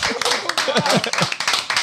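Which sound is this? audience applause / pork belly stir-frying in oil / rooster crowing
audience applause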